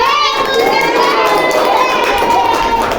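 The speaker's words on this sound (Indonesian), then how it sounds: "Betul sekali, tepuk tangan." Children in a classroom clap and cheer together, a loud continuous burst of many hands and shouting young voices filling the whole moment.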